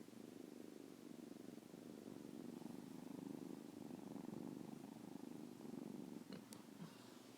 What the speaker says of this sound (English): microphone up so you can hear their purring.